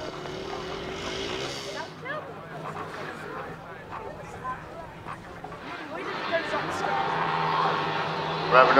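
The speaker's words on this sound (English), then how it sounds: "Revving up on the line, away we go." Grasstrack racing motorcycles rev hard on the start line at a 2022 Masters qualifier meeting, a dense buzzing engine roar that swells as the bikes get away, heard over a public-address commentator's voice.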